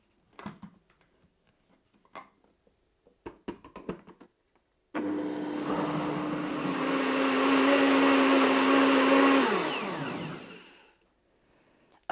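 A blender whirs for about five seconds, blending golden milk with coconut oil, honey and vanilla, after a few light kitchen clatters; the motor spins up loud and steady, then winds down to silence.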